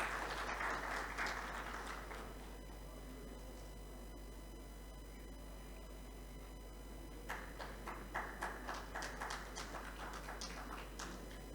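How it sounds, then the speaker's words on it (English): Scattered applause from an audience in a conference hall, a light patter that fades early and returns in a second, stronger burst, heard over a steady low electrical hum. "So please have a round of applause for all these people."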